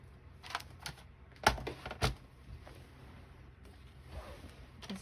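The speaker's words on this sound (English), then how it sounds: "And I have to use my cutter." A paper cutter slicing paper tags for a junk journal in a straight line, a handful of sharp close clicks and snips with quieter sliding and handling noises in between, in a quiet room.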